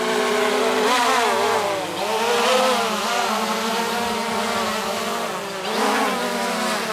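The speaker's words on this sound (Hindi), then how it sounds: "ओके, तो मैं अभी मैन्युअली उसे लैंड करवाने वाला हूँ।" Mi 4K drone being landed manually, a loud, close, steady buzzing whine of its propellers whose pitch wavers and dips as it descends, with no talk.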